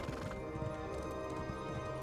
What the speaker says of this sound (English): my horse runs fast